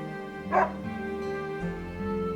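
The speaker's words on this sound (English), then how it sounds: "Is this your dog?" A dog in the video game Another Code Recollection gives a single short bark or yip, moderately close, over a steady background music bed with no talking.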